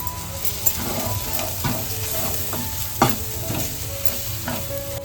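Amul butter sizzling in a pan with turmeric and ghee, a loud close continuous frying hiss broken by several scraping stirs of a spoon, with no talking.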